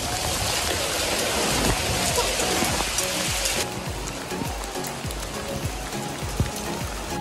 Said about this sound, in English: Yes, hailing, small little pea-sized hails.